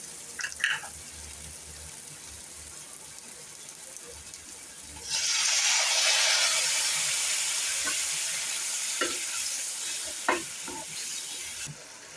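After some quiet clinks, a loud hiss of sizzling erupts as water is sprinkled onto masala in a hot pan for mushroom paneer pepper gravy, then slowly settles into a steady bubbling simmer.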